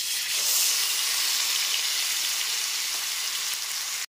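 A paste of onion, ginger, garlic and green chilli frying in caramelized sugar gives a loud, close, unbroken hiss and sizzle, steady and dense throughout, then stops abruptly.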